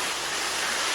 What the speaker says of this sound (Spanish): Una cascada